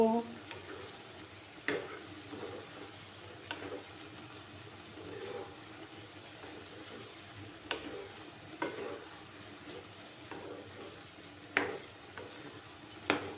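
Bottle gourd with cumin powder being stirred in a pan, soft sizzling under occasional sharp spatula knocks and scrapes, fairly quiet and close.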